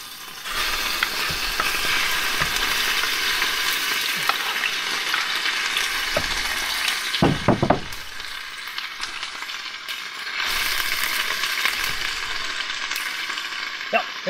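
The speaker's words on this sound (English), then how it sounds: "you can hear it sizzling" Loud, steady sizzling of chicken frying in hot oil, close by, with a few clanks and scrapes partway through.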